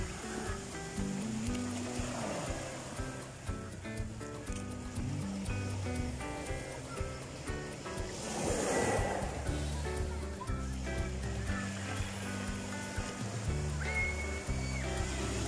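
High ocean waves break at the shore in the early morning, a continuous wash of surf with one louder surge midway, under background sounds.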